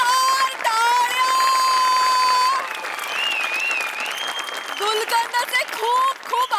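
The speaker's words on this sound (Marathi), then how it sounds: "जोरदार टाळ्या" A studio audience on the stage of a Marathi comedy show bursts into loud, sustained applause and cheering, with music playing over it and fading toward the end.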